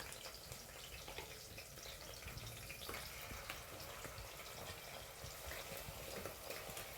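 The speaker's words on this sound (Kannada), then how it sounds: "ಚೆನ್ನಾಗಿ ತೊಳೆದು" Running water splashes steadily with scattered drips and small knocks as raw chicken is rinsed under a tap nearby.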